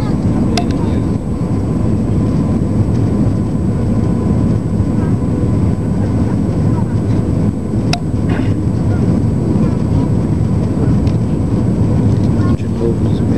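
Airliner on landing approach at Pampulha airport with flaps extended, a broad steady roar of engine and wind noise throughout, fairly loud, with brief clicks and no clear voice.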